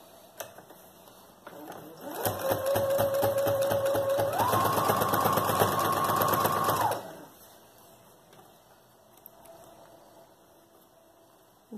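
A sewing machine stitches fabric for a child's backpack in one continuous run of about five seconds, rapid needle ticking that rises in speed partway through, preceded and followed by quiet room tone.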